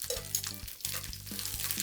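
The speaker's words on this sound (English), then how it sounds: "and continue frying them" Prawns with heads intact frying in hot oil in a pan, a steady close sizzle with soft crackles and brief stirring or turning noises running throughout, no talking.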